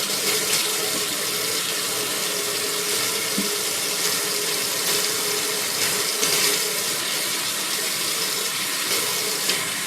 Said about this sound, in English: now what they do is rinse this out, and you probably have to swirl it around a little bit with your sponge